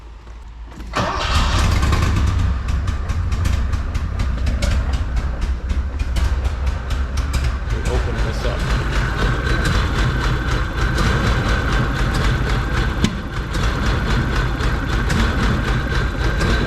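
An old Porsche engine cranks and catches, then runs continuously at a loud, rough idle with a dense mechanical clatter, close by for the rest of the stretch.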